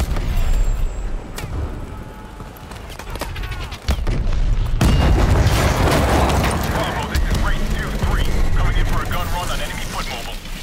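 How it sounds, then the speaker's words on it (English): A massive explosion in Call of Duty: Advanced Warfare erupts with a sudden deep boom and sustained roaring rumble, layered with crackling debris and loud game chatter over it. "Pressure explosion! This place is going up!"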